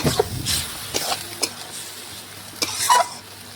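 Mutton pieces are stirred and fried with spices in a pan for biryani, with intermittent scraping strokes of a spoon against the pot over a soft, low sizzle.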